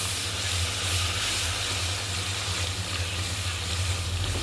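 Ground spices with dried chili powder sizzling in hot oil for a hilsa fish curry, a steady, close frying hiss that runs evenly throughout with no voices.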